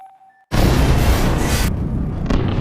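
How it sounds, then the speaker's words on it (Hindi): A sudden loud explosion in a film scene bursts in after a faint tone, a dense roaring blast that rumbles on and then decays. "उधर जो भी धमाका कर देता है।"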